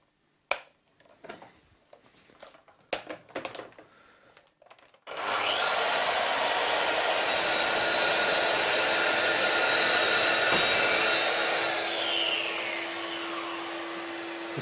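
A Mafell MT55 plunge saw spins up and makes a full-depth cut after a few handling clicks and knocks, its loud, steady whining roar holding for several seconds before easing slightly near the end, no talking.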